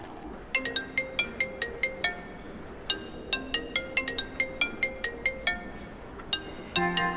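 A telephone rings during an outgoing call, playing a bright electronic ringtone as a quick run of repeated chiming notes that pause briefly and resume, clear and fairly close, with no talking.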